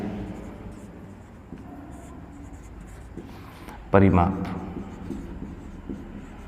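Chalk or pen writing during a Hindi-medium class 9 maths lesson on perimeter: one short, louder burst of scratchy strokes near the middle over a steady low background, with no other sounds standing out.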